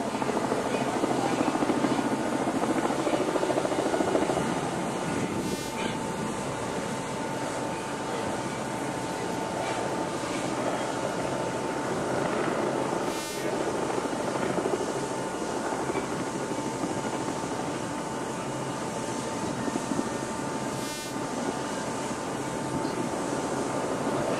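Helicopter circling near the ammunition ship USS Niagara Falls at sea, a steady broadband rotor and turbine drone holding for the whole stretch, with brief rhythmic blade pulses standing out now and then.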